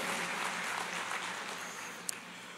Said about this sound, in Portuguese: deixa eu aplaudir aqui